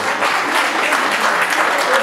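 Loud, steady applause from a wedding crowd honouring classmates, dense clapping filling the whole span without a break.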